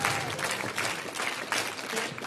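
Audience at a comedy battle show semifinal applauding a performer, a dense, steady burst of clapping with slight surges across the short span.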